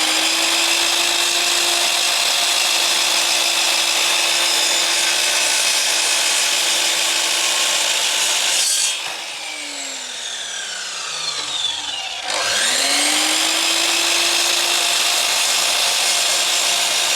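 A handsaw cutting through wooden skirting board in a garden room, steady rasping strokes running loud and continuous, pausing briefly partway before the cutting resumes.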